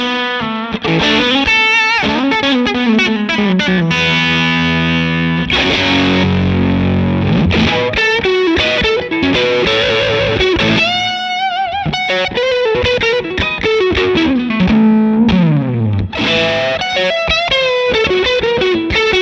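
Electric guitar with a single-coil pickup plays through a heavily distorted amp, with sustained gritty notes, bends and quick runs, loud and close with no talking.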